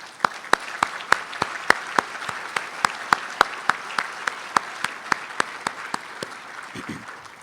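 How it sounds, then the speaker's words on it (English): A small audience at an awards banquet for an academic team applauds with sparse, distinct claps spaced through the room, steady and fairly close, without any talking over them. "please give these wonderful people a round of applause"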